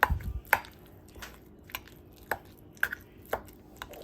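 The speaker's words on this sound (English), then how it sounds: "we're gonna mix the meat and the farro" Ground beef and farro being mixed by hand for stuffed peppers, soft squishing and wet pats at irregular intervals, close and quiet with no talk.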